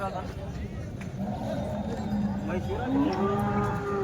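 Cows lowing at a busy cattle market, several drawn-out moos rising over a constant murmur of people talking and general livestock-yard bustle.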